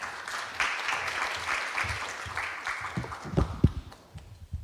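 An audience at a book launch for a volume on the May 18 Gwangju distortion inquiry claps for an arriving lawyer, moderate applause that thins into scattered claps and a few louder hand hits at the end.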